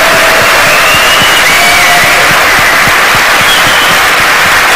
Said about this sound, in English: make a big round of applause.